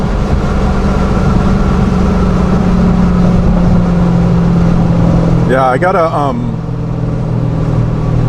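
A car with a 426 engine being driven on a pull, its deep engine drone loud and steady throughout, with someone speaking briefly over it near the middle.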